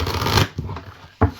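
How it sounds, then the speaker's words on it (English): A Tarot of the Cat People card deck is shuffled up close, with a brisk riffle of cards followed by a couple of short, crisp card snaps. "very completely reversible, easy to shuffle, easy to handle."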